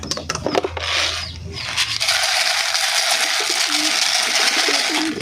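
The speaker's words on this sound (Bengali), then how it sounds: "এগুলো সব মাহাদির পাখি।" Pet pigeons coo near the microphone at feeding time, low throaty calls repeating over rustling and clattering from an opening door and poured feed.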